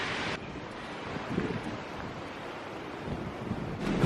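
Wind gusting across open moorland at Bodmin Moor in Cornwall, a steady loud rushing roar with microphone buffeting, surging at the start and again near the end, with no voices.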